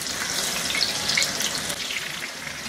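About a cup of thinly sliced onions fry in hot oil in a wok for crisp birista, a steady, close, dense sizzle that holds evenly throughout with no voices.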